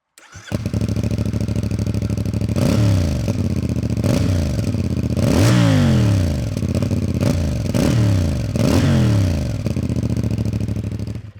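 A CFMOTO CLC 450 motorcycle with a 270-degree crankshaft and standard exhaust idles with a deep, loping rumble, punctuated by several sharp throttle blips that rise and fall in pitch, close and loud throughout.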